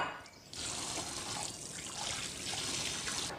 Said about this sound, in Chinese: 泡好的腰丝再冲洗一下